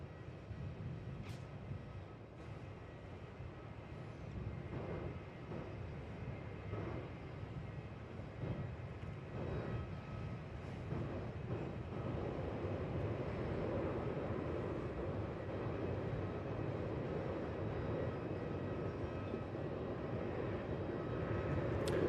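Qantas airliner rolling for takeoff on runway 16 at Melbourne Airport, a steady broadband jet roar that builds slowly and stays loud and continuous, heard from a distance with no talk.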